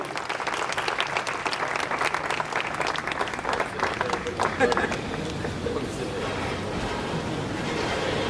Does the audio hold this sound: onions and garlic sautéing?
no